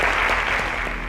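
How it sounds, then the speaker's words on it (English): Steady, dense applause from a studio audience at a children's quiz show grand finale, filling the whole moment with no voices over it. "A round of applause."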